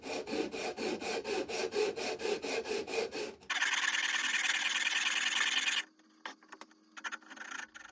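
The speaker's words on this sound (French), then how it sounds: "je vais poncer ça de façon à faire disparaître les petites vaguelettes" A flat plywood sanding block rubs back and forth over wood edges of a modern TV cabinet, a close rhythmic rasping, then a steadier loud grinding stretch before it stops, with no speech.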